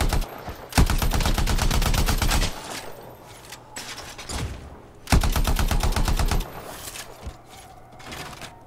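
Rapid automatic gunfire in the video game Anthem, two long loud bursts of fast rhythmic shots with shorter sharp blasts and mechanical clatter between them.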